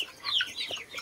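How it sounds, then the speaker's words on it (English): Young chicks in a pullet pen on a farm give a few soft, close clucks and chirps over a short moment, with no talking. "the big chicks go after the food"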